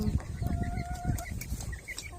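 Rhode Island Red backyard chickens cluck and call amid steady background noise, with a thin tonal whistle running through the middle.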